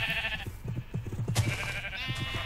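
Sheep bleat in Minecraft at a breeding pen, several overlapping nasal bleats, close and clear, with small shuffling sounds underneath.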